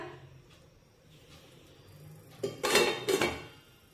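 A metal lid is set onto a kadai (wok) holding semolina cooked in milk for sheera, two quick clanking contacts close by after a quiet stretch.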